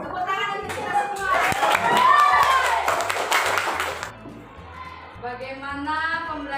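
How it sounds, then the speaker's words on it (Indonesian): A classroom of children claps together during a teaching practice lesson, a loud burst of rhythmic clapping mixed with kids' chatter that fades after a few seconds, followed by an adult speaking. "Tepuk tangan untuk kita semua."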